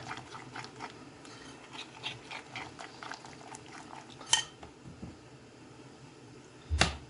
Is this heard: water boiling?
yes